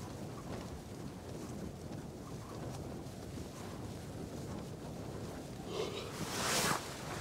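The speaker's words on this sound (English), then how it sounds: "But yeah, it is proper windy." Strong wind buffets the microphone at a summer wild camp on Whin Rigg, a continuous low roar with gusts that swell louder near the end.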